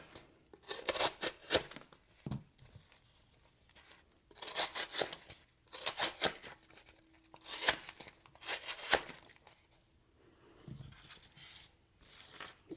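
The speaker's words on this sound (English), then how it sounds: "I know cardboard doesn't always indicate slicey, but it can sometimes help me in a test like this" A knife slicing through taped cardboard in repeated bursts of crisp cutting and tearing, each lasting about a second, separated by brief quiet gaps, close and fairly loud.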